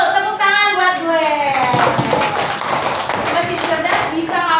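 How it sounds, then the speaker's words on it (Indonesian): Hands clapping in a classroom during an open class lesson, a burst of steady applause mixed with voices talking over it throughout. "Betul, tepuk tangan buat gue."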